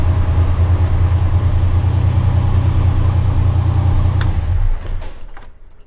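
A Jeep Wrangler YJ engine idles with a steady low rumble up close, then shuts off near the end, leaving a few light clicks and ticks.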